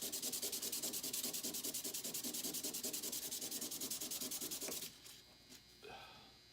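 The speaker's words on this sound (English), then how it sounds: "And I'm going to sand." Hand sanding a metal pendant with 400 grit sandpaper, a rapid steady rhythmic back-and-forth rasp that is close and loud, stopping near the end and leaving only faint handling noise.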